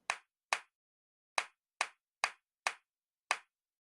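Seven sharp, isolated hand claps with uneven gaps, close and fairly quiet, each a crisp broadband smack that decays quickly into silence.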